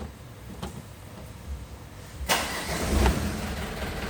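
A car engine restarted after a loose fault was found, with a brief cranking burst about halfway through that settles into a steady low running rumble, close and fairly loud, without talk.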